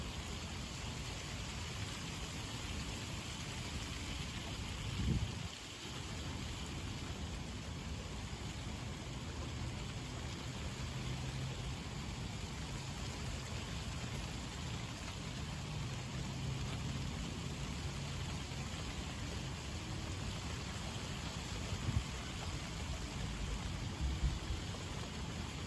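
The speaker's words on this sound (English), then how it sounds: "And here comes this rain." Heavy rain from a summer thunderstorm in Dayton pours steadily as a broad, even hiss, with low rumbling wind or traffic underneath and a couple of brief thumps, and no one speaking.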